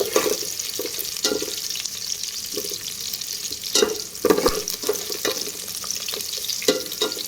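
Whole cinnamon sticks, cloves and cardamom frying in hot oil in a home kitchen: a steady close sizzle with intermittent stirring scrapes and small crackling bursts, no talking.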